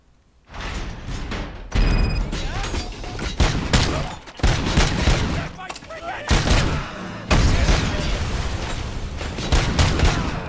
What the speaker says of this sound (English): Somebody just shoot me with a grenade launcher or something, or did they throw a grenade in there?